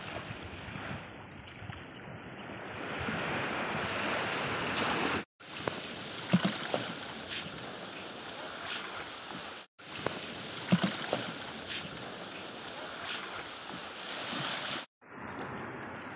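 A small wooden fishing rowboat out on the sea off a Konkan beach, with soft lapping water, faint wave wash and wind buffeting the microphone, broken by a few short gaps.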